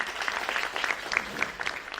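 Brief audience applause at a business programme feedback presentation, a soft, dense patter of many hands clapping at a moderate distance, steady throughout with no voices standing out.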